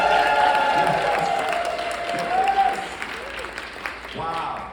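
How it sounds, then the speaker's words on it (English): Audience applause breaks out at a comedy set by a comedian, a crowd clapping and cheering steadily before tapering off, with some talk over it. "huge applause break"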